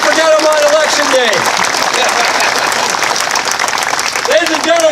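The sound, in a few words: applause for the mayor at a Memorial Day parade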